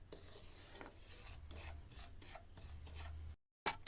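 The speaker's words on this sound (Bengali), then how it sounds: "সুজিটা ভাজতে হবে একদম মিডিয়াম টু লো আছে, একটু সময় নিয়ে ভাজতে হবে" Fine semolina is dry-roasted in a pan over medium to low heat, heard as a quiet, continuous gritty rasping and stirring that cuts out briefly before one last scrape.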